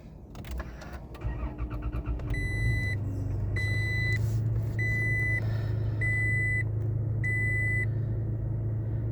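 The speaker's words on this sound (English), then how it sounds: "I'm gonna turn the car on, obviously" A 2021 Toyota Tacoma engine cranks and catches, then settles into a low, steady idle while a series of evenly spaced dashboard warning chimes beeps over it, nearby with no talk.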